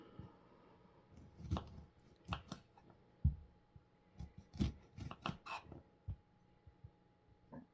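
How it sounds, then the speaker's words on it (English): Knife cutting a lime on a board during fire cider preparation, heard as a series of sharp, close chops and taps at irregular intervals with quiet gaps between them. "and now we will cut the lime"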